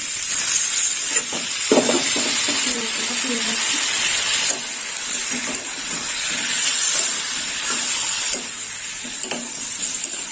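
Water is poured into a vegetarian curry of boiled papaya frying in a pan. A loud, continuous hissing sizzle fills the whole stretch, with light stirring knocks now and then.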